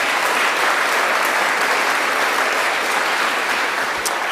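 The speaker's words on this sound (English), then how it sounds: "I think we get a round of applause for that as well." A crowd at the Tasmania 2021 Australian of the Year Awards ceremony breaks into steady, dense applause that fills the whole stretch at an even loudness, with no voices standing out.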